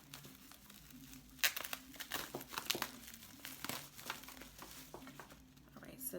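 Packaging around a skincare fridge being cut open and unwrapped, close crinkling and crackling of plastic and paper in irregular bursts, fairly faint overall, with a person talking.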